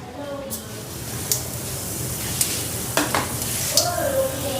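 Cumin seeds sizzle steadily in hot oil in a wok, a close, continuous frying hiss broken by occasional sharp clinks and scrapes of stirring.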